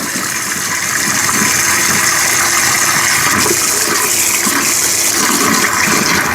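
Cold water gushes from a newly installed kitchen faucet, a loud continuous rushing hiss that holds steady throughout, close by with no talk.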